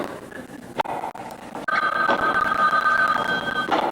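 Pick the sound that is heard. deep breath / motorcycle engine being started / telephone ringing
telephone ringing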